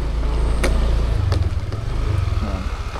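An oncoming motorcycle crosses a narrow one-lane bridge in General Nakar, Quezon. Its engine rumbles loud and close with a rough, pulsing throb and a couple of sharp clattering knocks, then eases off slightly as it passes.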